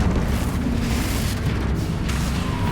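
The Confringo fire spell in Hogwarts Legacy bursts in a deep, rumbling explosion that rolls on steadily for a few seconds, loud and near with no voices.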